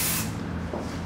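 A short burst of hairspray from an aerosol can, a loud close hiss lasting about a quarter second before fading into quiet room tone.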